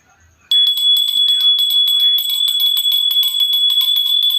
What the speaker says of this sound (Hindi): तो देखिए हमने यहाँ पर घंटी बजा दी है